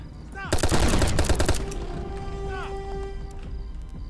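Gunfire in the 2D SWAT shooter Hot Brass: a dense burst of rapid shots in the first second and a half, then quieter game ambience with ringing tones.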